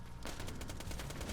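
Rapid automatic fire from the Fatale legendary SMG in Borderlands The Pre-Sequel, a fast steady stream of sharp shots running continuously and close up, with no voices over it.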